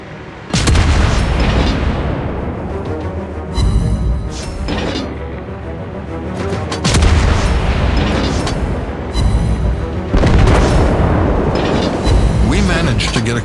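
Heavy warship cannon salvos booming in the naval battle game World of Warships Blitz, several loud rolling blasts spaced a few seconds apart with a voice heard between them.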